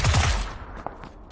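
Gunfire from the military shooter game Squad, a loud dense burst of shots at the start that fades into scattered fainter reports and a single sharp crack, with no talking.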